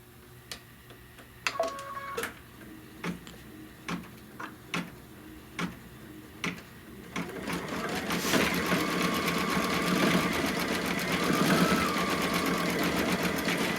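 A computerized embroidery machine stitches the centers of flowers on a Kimberbell quilt block: first a series of distinct, evenly spaced needle ticks, then a denser, louder steady whir of rapid stitching.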